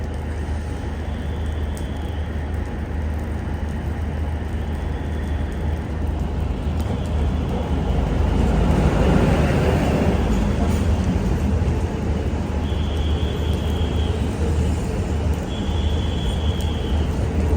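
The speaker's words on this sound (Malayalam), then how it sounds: "ബാരാമുള്ളയിലേക്ക് പോകാനുള്ള നമ്മുടെ ട്രെയിൻ ഇതാ കടന്നു വരികയാണ്" Train pulling into a station through snow on the Srinagar–Baramulla line in Kashmir, a steady broad rumble that swells and grows louder midway as the cars roll past, with faint tones above.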